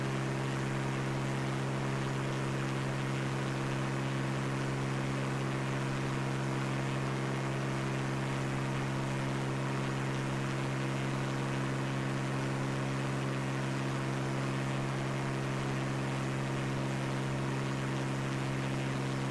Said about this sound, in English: The plane engine's really off-putting.